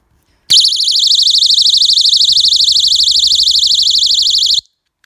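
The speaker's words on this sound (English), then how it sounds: "you need to pull the pin and get an alarm going" A GE personal panic alarm, set off by pulling its pin, wails loudly and piercingly for about four seconds, warbling rapidly in pitch, then cuts off abruptly.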